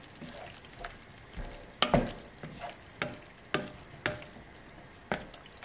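A spoon scrapes and knocks through pasta sauce with mushrooms and vegetables in a pan, giving a series of soft wet clacks about every half second over a quiet sizzle.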